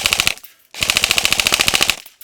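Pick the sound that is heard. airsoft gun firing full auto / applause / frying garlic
airsoft gun firing full auto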